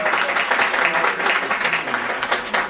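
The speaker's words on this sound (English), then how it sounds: "round of applause for our VIPs" A crowd applauds VIP members at a BeautiControl sales success meeting in Washington: steady, dense clapping that holds at an even level for a few seconds.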